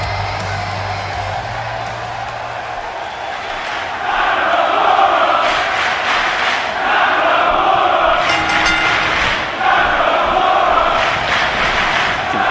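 A wrestling arena crowd roars continuously around the ring, a dense wall of cheering that swells louder partway through with bursts of chanting and shouts.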